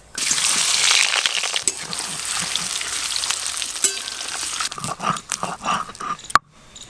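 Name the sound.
potatoes frying in hot oil for Kashmiri aloo dum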